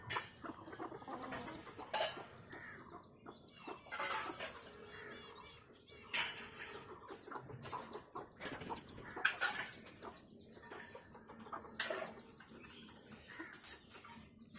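Hens and chicks cluck and peep in a busy, overlapping flurry while feeding close by, the chatter rising and falling in short bursts with no voices over it.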